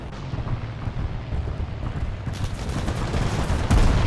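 Bombs exploding in the War Thunder aircraft game, a dense rumbling roar of blasts that builds steadily and ends with a heavier, louder burst.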